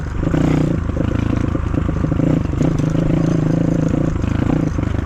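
An Apollo RFZ 250 motorcycle rides at a relaxed, steady pace, its engine holding a loud, even drone with a light rattling clatter throughout and no speech.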